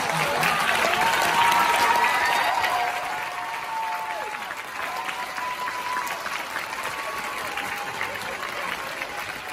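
Theatre audience applauding at a concert curtain call in a Broadway house, a dense wash of clapping that is loudest at first, then eases to a steady softer roar while a voice speaks over it.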